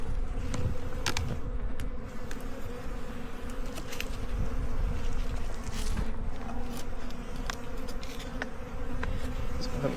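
Bees swarming around a beehive in a backyard, a dense continuous buzz close by and fairly loud, with individual insects flitting past and scattered light knocks and rustles.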